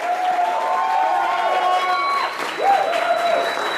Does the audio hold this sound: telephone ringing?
no